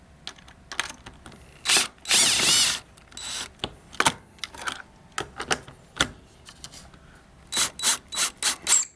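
Bolts being driven and torqued on a Roll-N-Vac motor with a power torque tool, giving short sharp whirring bursts and one longer run, separated by quiet gaps and ending in a quick series of pulses.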